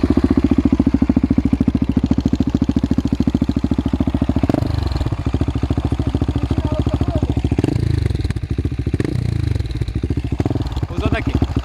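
A 2021 KTM 690 Enduro R single-cylinder motorcycle engine runs close and loud with a rapid rhythmic clattering beat, holding a steady idle with slight rev changes while people talk over it.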